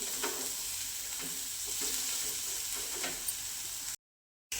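Bitter gourd chutney sweetened with jaggery being sautéed on low heat in a pan, a steady soft sizzle with light stirring scrapes, running alone for a few seconds before a brief cut to silence.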